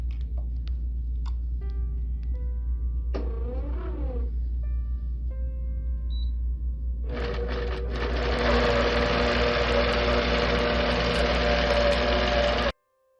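A sewing machine stitches a quilt block under Quiltpath control, starting with scattered clicks and short bursts, then breaking into several seconds of loud, continuous motor-driven stitching that stops abruptly.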